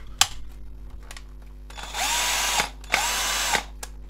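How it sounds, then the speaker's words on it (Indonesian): A Makita cordless drill powered by a generic LXT battery with an aftermarket BMS whirs up in two short bursts, close and loud, after a few clicks and handling knocks, with no talk. "Akan saya coba ke bur ini."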